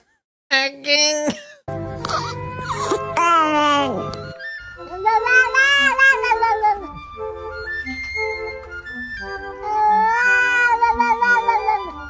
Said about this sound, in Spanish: El gato francés.